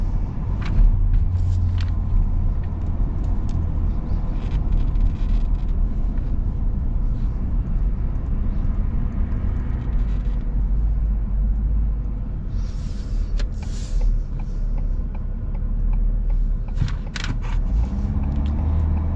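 A 2026 Ford F-350 STX High Output pickup's diesel engine idles with a steady, fairly quiet low rumble, heard from inside the cab along with occasional light clicks and rustles.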